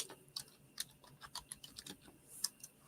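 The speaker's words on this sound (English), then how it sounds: "while I'm typing this in" Someone types on a computer keyboard, a quick irregular run of light clicky taps, close and clear over quiet room tone, with no talk.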